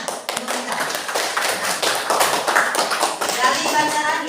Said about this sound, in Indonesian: Tepuk tangan untuk Dika.